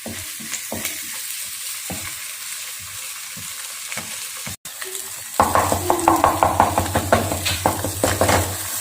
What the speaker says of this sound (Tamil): முட்டை உடச்சி ஊற்றிடுங்க. உடச்சி ஊற்றிட்டு நல்லா கிண்டுங்க